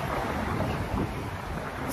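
Wind roars in broad, gusty rumbles close to the microphone, with a low buffeting rush and no voices.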